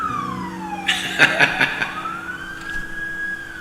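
A siren wails nearby, its pitch sliding down and then back up, while several sharp, loud bursts cut across the middle of the sweep.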